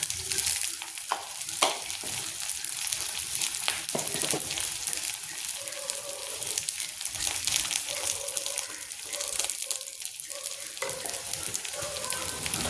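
Onion and cumin fry in oil in a kadhai, crackling and sizzling steadily up close, with scattered stirring scrapes and small clinks over the continuous hiss.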